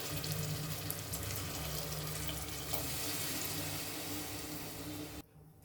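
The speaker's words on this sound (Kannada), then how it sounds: "2 ಲೋಟ 1 ಲೋಟ ಆಗುವಷ್ಟು ನೀರು ಹಾಕ್ಕೊಳ್ತಾ ಇದ್ದೀನಿ." Water pours steadily from a tap into a cooking pot, measured out for rice in an egg biryani, a continuous close rushing stream that cuts off abruptly near the end.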